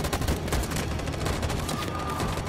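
Rapid bursts of gunfire crackle nonstop during a firefight in the video game Detroit: Become Human, dense and loud with overlapping shots and a steady roar of combat underneath.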